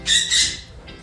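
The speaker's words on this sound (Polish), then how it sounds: "Tak, jesteśmy przy ptaszkach" Two loud, harsh bird squawks in quick succession in a backyard bird garden in the morning, close by, followed by a fainter third call.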